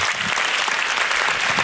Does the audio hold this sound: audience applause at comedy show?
yes